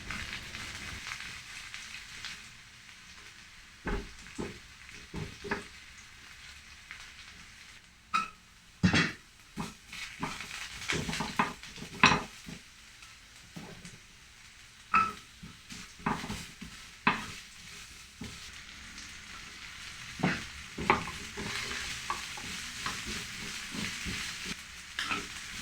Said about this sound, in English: Stir-fry the vegetables, followed by adding the sauce, and return the beef back to the pan